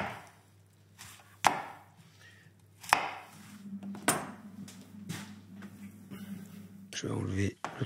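A knife cutting apples into quarters on a board, with a few sharp, well-spaced chops and softer slicing between them, and a voice speaking at times.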